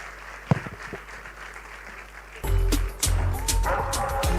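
Audience applause at a Rotary district conference in Entebbe, Uganda, swelling suddenly after a quiet stretch into dense, loud clapping from a large crowd, with a few scattered sharp sounds before it.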